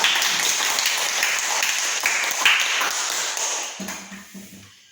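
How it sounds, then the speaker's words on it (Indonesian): A class of schoolchildren applauds together in a classroom, a dense burst of clapping that fades out after about four seconds. "Oke, terima kasih tepuk tangan semuanya."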